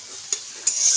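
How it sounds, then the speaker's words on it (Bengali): An egg fries hard in a hot pan, giving a steady close hiss of sizzling broken by two sharp scrapes of a spatula stirring it, with no voices. "তো ডিমটা ভালো করে ভাজবে"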